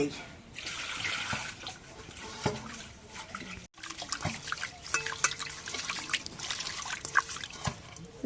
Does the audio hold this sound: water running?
yes